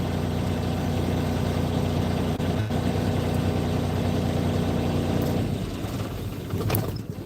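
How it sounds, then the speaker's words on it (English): A parked semi truck engine idles with a steady low droning rumble close by, constant throughout and easing slightly near the end, with no voices. "that's the truck running."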